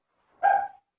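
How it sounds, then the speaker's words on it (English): A single short dog bark or yip, fairly close and moderately loud, standing alone against silence with no talk over it. "so you don't hear my dog barking"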